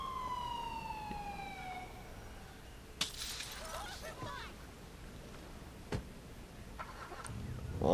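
A police siren in Grand Theft Auto IV wails with falling tones at the start, then fades, leaving a faint background with a few sharp cracks and impacts.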